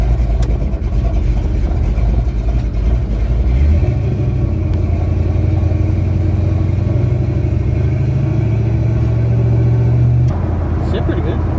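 A cammed LS-swapped C10 truck drives with a loud, lopey engine note that rises as it accelerates, holds a steady pull through the middle and drops off near the end, with voices talking over it.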